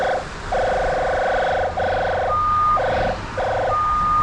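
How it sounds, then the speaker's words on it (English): An electronic cable locator alarm beeps in a repeating on-off pattern of steady tones, several bursts in a row with short gaps, fairly loud over low background rumble. "The alarm's going off."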